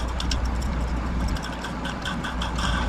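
Freshly lubricated vacuum cleaner electric motor running steadily, a close, continuous low hum and whir with slight rattly texture and no breaks.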